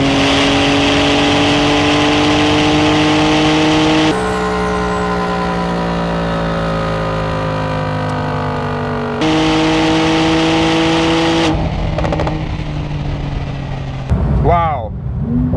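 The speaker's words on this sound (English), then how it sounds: "when that car puts the power on, it is no joke." A high-performance sports car accelerates hard in a drag race, its engine note climbing through rising revs across several gear changes, loud and close, with a sharp chirp near the end.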